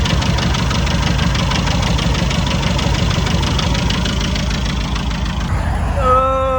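A classic Mini's small petrol engine, running lean, idles steadily and fast, with a constant mid-pitched mechanical drone and a high whine rising near the end.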